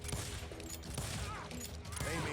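Gunfire in the Western shooter Call of Juarez: Gunslinger crackles as a dense, rapid fusillade of shots throughout, blended with game ambience and faint voices.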